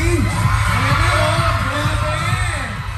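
A loud, dense crowd of fans roars and shouts continuously at a celebrity appearance, with voices overlapping and rising in a sustained wall of cheering.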